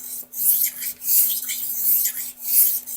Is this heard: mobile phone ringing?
no